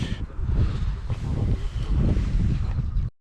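Wind buffets the microphone in heavy, uneven gusts while mullet fishing, a loud rumbling roar that cuts off abruptly near the end.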